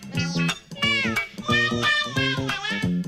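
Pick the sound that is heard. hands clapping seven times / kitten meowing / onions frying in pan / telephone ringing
kitten meowing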